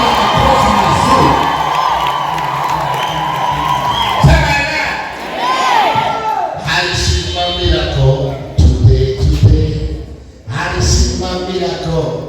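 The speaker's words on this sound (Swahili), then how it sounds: "piga makofi mazuri" A church congregation breaks into loud clapping, cheering and whooping, with children shouting among the crowd, a dense close roar that swells and dips while a voice carries over it.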